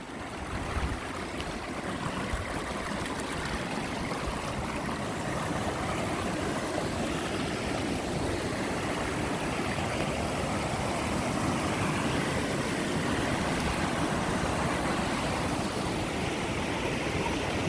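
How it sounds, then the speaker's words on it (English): Small waterfall on a stream beside an old mill, a constant broadband rush of falling water, steady and close, with no voices over it. "This little waterfall here"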